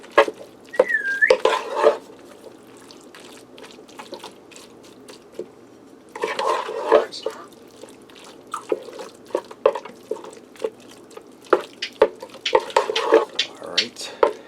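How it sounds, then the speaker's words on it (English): Cheesy kielbasa hash brown casserole is stirred in a Ninja Speedi, close, with soft wet scraping and clicks of a utensil against the pot that come in bursts separated by quieter pauses. "I'm going to give that a quick stir"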